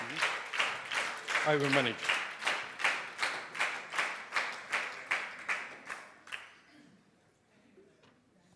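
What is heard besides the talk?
audience clapping at a presentation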